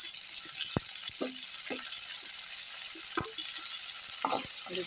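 Tomatoes with small onions, green curry leaves and crushed ginger and garlic sautéing in a frying pan give a steady bright sizzle throughout, with occasional soft stirring scrapes and clicks, close and alone without talk.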